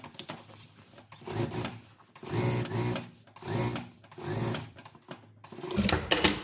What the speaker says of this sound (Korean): 시접은 이쪽 편으로 보내서 스티치 한번 놓습니다